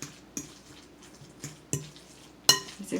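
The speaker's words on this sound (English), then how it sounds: "So we mix all of this together." A bowl of seasoned ground turkey with peppers, onions, tomatoes and salsa being mixed for meatloaf, heard as a handful of separate soft knocks and squishy clinks against the bowl, close by and moderately loud.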